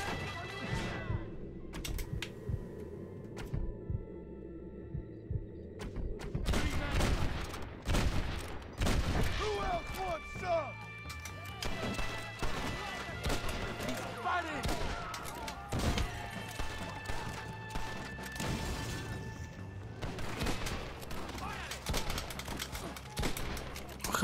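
Gunfire from the Red Dead Redemption video game, a series of sharp shots and bursts scattered over a busy backdrop of game ambience, with occasional quiet speech.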